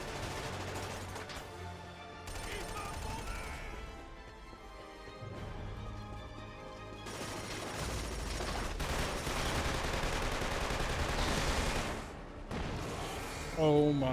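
Gunfire in the Killzone 2 game, with bursts of shots and explosions over game music and sound effects, fairly loud throughout.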